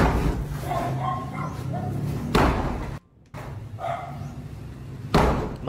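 Heavy blows strike a sturdy steel door during a forced house entry, two loud slams about three seconds apart over constant background noise, with a dog barking and voices in the mix.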